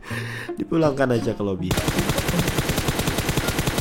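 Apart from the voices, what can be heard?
gunfire in video game PUBG Mobile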